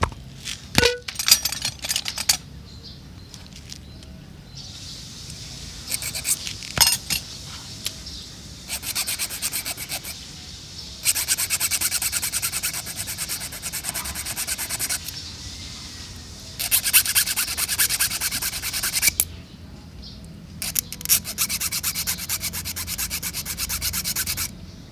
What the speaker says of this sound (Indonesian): kita potongnya pakai kikir ya